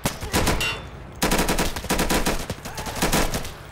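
Gunfire in the tactical shooter Insurgency: loud, rapid automatic bursts close by, broken by one brief gap just after the first second before the firing resumes and keeps rattling to the end.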